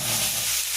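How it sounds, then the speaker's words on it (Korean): Pork belly sizzling on a wood-fired grill, a brief burst of steady close hiss and crackle with no talking. "불금에 삼겹살 구워 먹습니다"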